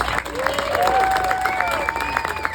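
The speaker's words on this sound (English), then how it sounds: "please give a huge, huge, huge round of applause to all the volunteers" An audience at a community meeting applauds the volunteers with a brief, steady patter of clapping, a few voices and cheers rising over it.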